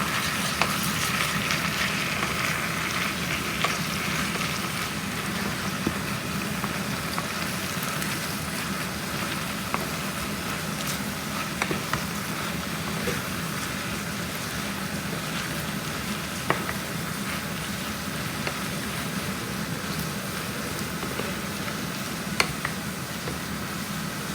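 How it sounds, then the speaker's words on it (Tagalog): Malabar spinach (alugbati) and sardines sizzling and frying in a pan, with a continuous crackling hiss and occasional soft scrapes of stirring, steady and close throughout with no talking. "Haluin lang natin siya."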